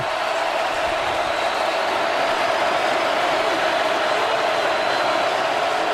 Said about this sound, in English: Crowd trying to be a factor on Mond again.